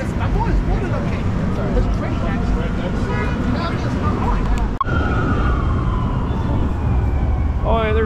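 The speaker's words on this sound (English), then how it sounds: "There's sirens going on" Emergency sirens wail along a busy New York City street amid loud traffic noise and nearby chatter, a rising and falling siren tone running steadily through the background.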